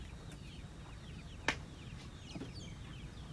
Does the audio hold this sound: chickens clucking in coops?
yes